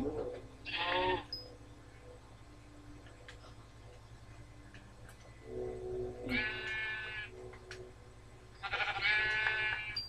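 Sheep in a blocky sandbox video game bleat three times, short and fairly close, spaced a few seconds apart over a faint steady background, with no talking.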